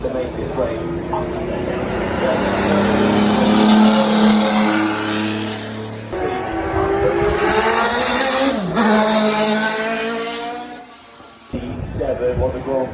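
A Formula 1 Grand Prix race car passes by at the Goodwood Festival of Speed, its engine note loud and sweeping with rising and falling pitch, heard under continuous talk from a commentator.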